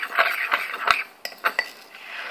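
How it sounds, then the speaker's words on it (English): A spoon clinks and scrapes against a bowl as toy horse food ingredients are stirred, in a quick irregular run of close, bright taps with no talking. "you're going to want to stir it up with your spoon"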